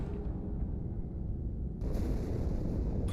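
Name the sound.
explosion inside the ship Athens in the video game Halo 2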